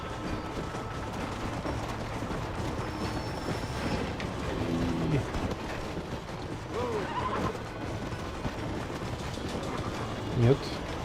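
A train runs in the Western video game Red Dead Redemption, a continuous rattling rumble of rail cars with mechanical clanks and a brief horse whinny, playing under intermittent talk.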